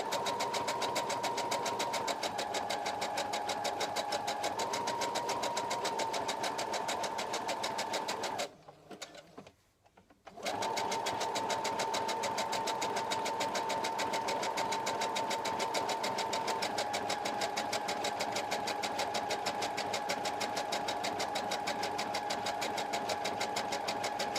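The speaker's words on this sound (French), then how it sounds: "n'hésitez pas à caler votre aiguille dans votre tissu et tourner légèrement en levant le pied presseur" Sewing machine stitching fabric scraps around a curve, a steady loud mechanical hum with rapid needle rhythm, briefly stopping partway while the fabric is turned, then resuming.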